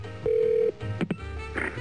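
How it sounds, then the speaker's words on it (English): A single long answering-machine tone sounds on a phone call, steady and clear for about half a second, followed by brief clicks and low line noise. "leave your name and message at the tone"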